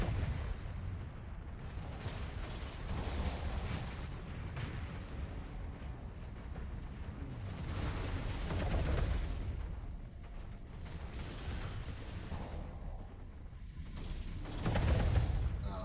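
Neutron torpedoes firing in the space combat game Starsector, heavy booming blasts in repeated waves with rumbling tails, several swelling bursts spread across the stretch and a loud one near the end.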